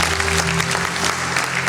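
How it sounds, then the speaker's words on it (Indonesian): A room full of people at a praise and worship training session breaks into brief, loud, continuous applause, with a low hum and faint voices underneath. "Tepuk tangan kita semua."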